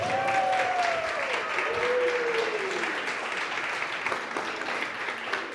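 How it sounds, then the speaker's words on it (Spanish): Sustained audience applause welcoming children at a church service fills the room as a broad, even wash of clapping, with a few sung or called-out voice tones rising over it early on. "Un fuerte aplauso para ellos"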